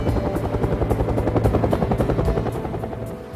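Bell UH-1 Huey helicopter rotor blades beating in a steady rapid chop over a loud engine drone, close and continuous, fading slightly toward the end, with no voices.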